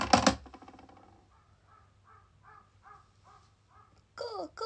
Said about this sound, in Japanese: カラスも元気に鳴いてる